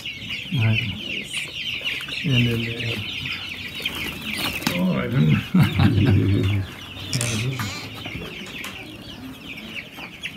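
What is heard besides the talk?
chickens clucking at a convent poultry farm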